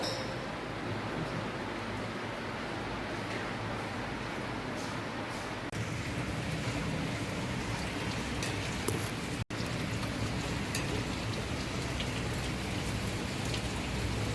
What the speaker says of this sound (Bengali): খুব বৃষ্টি পড়ছে, ভালোই লাগছে, ঠান্ডা ঠান্ডা হাওয়া আসবে